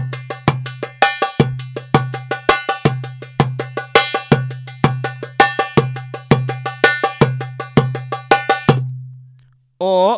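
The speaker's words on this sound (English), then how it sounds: "you can also play the Khaliji 3" Darbuka playing the Khaliji 3 rhythm: a steady repeating pattern of deep resonant dums and sharp ringing teks, close and loud with no talk, ending in a brief tonal sound after the pattern stops.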